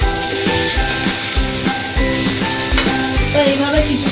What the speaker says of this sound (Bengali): তো আমি আবারও ভালোভাবে একটা নাড়াচাড়া দিয়ে দেবো।